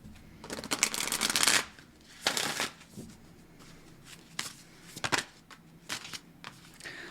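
Moonology oracle cards are shuffled close by in several brisk riffling bursts of papery flutter and slaps, with short pauses between them and no talking.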